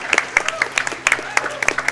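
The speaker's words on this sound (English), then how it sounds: "Get ready to clap." An audience at a speedrunning charity marathon event applauds, a scattered run of claps and cheers with some voices mixed in.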